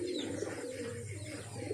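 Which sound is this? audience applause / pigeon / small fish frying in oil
pigeon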